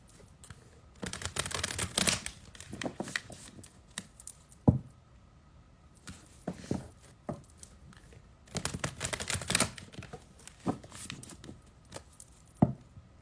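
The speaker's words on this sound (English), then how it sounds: "Let me shuffle these right quick" Tarot oracle cards being shuffled by hand, in quick bursts of papery riffling, slapping and tapping that come in several separate runs with short pauses between them, close by and with no talk.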